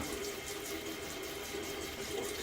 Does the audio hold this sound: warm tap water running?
yes